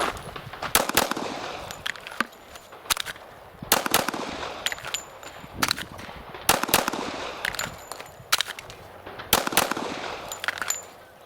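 A Smith & Wesson M&P45 pistol fires Winchester white box factory ammunition in control pairs: sharp, loud, close shots come in quick doubles with short pauses between the bursts.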